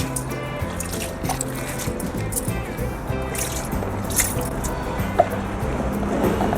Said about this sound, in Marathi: आणि त्याला मी एकदम स्वच्छ धुवून घेते.